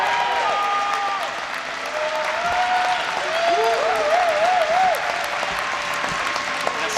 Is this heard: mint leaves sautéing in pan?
no